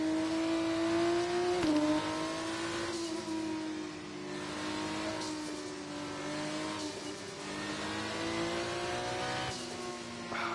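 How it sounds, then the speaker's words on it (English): An F1 car's turbo hybrid engine in the racing game F1 24, a high, steady engine tone with upshifts and brief dips as it accelerates along the track, fairly close and uninterrupted by talk. "Listen to that turbo."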